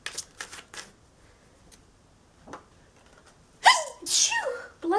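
A single sharp human sneeze, loud and close, near the end after a few soft card-shuffling taps and a quiet gap, followed by a brief breathy trail.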